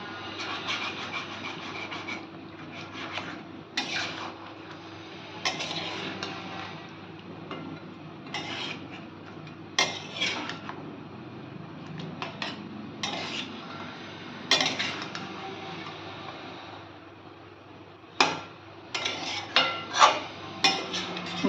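A spatula scrapes and presses tomatoes against a metal kadai for kadai chicken, with irregular clinks and scrapes in bursts over a low hum.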